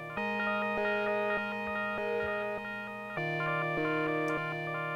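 Dreadbox Polyend Medusa synthesizer with only its digital oscillators sounding, sustained buzzy chords with a rhythmic pulsing modulation, shifting to a lower, fuller chord partway through, alone and steady.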